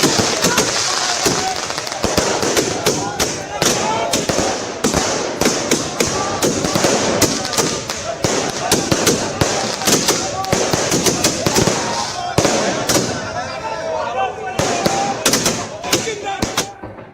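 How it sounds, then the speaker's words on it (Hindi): Fireworks set off by celebrating political supporters crackle and pop in dense, rapid bursts with occasional heavier thuds, continuing loudly throughout amid crowd noise and voices. "अनंत सिंह के आते ही आतिशबाजी शुरू हो गई"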